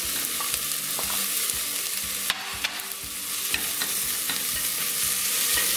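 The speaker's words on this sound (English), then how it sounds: "Give that a stir." Yellow pepper frying in a pan while being stirred, a dense steady sizzle with scraping utensil strokes and light clatter, close up with no speech.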